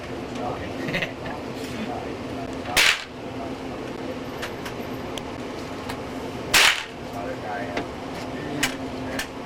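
Two sharp, loud gunshots fired at targets crack out several seconds apart over a steady background hum, with people talking between them.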